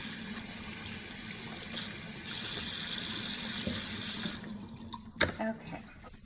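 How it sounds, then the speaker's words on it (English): Tap water runs steadily into a sink while vegetables pulled from the earth are separated and rinsed for sloppy joes, a continuous hiss that thins near the end with a few splashes and clinks. "that's why you have to pull it apart, separate it, and just wash it."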